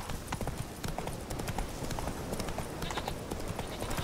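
Roach, a horse in The Witcher 3, gallops in a steady rapid clip-clop of hooves that runs loud and close throughout, with no talking.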